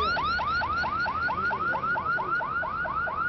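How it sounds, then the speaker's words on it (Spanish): A neighbourhood security alarm in Cárdenas, Tabasco wails loudly and steadily in rapid, evenly repeating rising sweeps, like a car alarm, for the whole stretch with no talk. "La alarma se activa cuando hay peligro en la zona"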